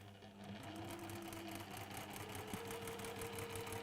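A sewing machine chain stitching a quilt hums steadily with a fast, even mechanical rhythm throughout, quiet and close with no talking.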